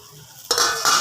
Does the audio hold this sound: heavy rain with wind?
no